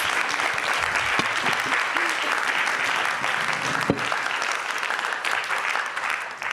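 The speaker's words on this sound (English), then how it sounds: "Let's give him a big round of applause." Warm, sustained applause from the audience closing a literature symposium conversation, dense and even for over six seconds, with a few louder individual claps standing out.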